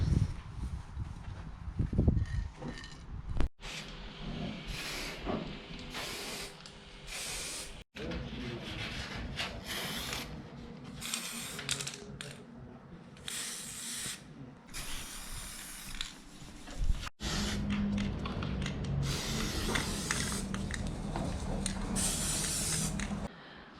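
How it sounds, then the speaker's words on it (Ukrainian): An aerosol spray paint can hisses in long repeated bursts with short gaps while candle holders are painted, loud and close with no talking. "фарбувати буду балончиком"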